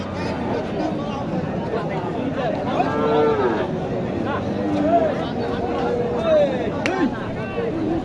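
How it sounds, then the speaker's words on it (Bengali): A Nepali cow at a village cattle market in Naogaon, Bangladesh, gives several drawn-out moos over steady crowd chatter and people talking nearby. "এখানে একটি নেপালি গরু আপনারা দেখতে পাচ্ছেন"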